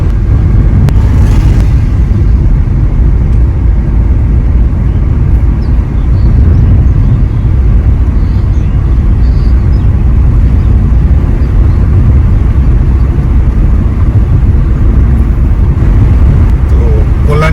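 A car travels along the newly built Kalyani Expressway toward the airport, its engine and tire roar forming a loud, steady, continuous rumble throughout with no talk.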